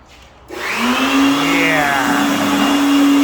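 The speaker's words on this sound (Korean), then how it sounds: "송풍기 소리도 되게 요란합니다" A leaf blower blowing off dust starts up abruptly and settles into a loud, steady whining roar with a rising pitch, close by.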